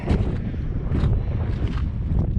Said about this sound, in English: Ooh, a little breezy right here.